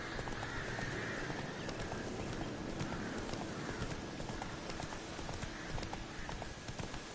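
A horse in the video game The Witcher 3 gallops in a fast, steady rhythm of hoofbeats, with a neigh breaking through over a constant noisy backdrop.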